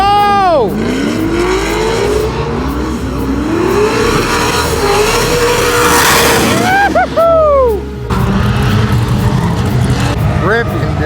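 A car drifting a new track layout at Fuel Fest, engine revving hard with rising and falling pitch sweeps and tire squeal, loud and close, with a brief dip near the eight-second mark and people talking over it.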